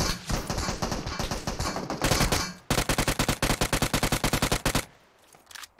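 A UMP submachine gun in PUBG Mobile fires loud, close full-auto bursts: one long stream, a short pause, then a second rapid, evenly spaced burst that cuts off into quiet.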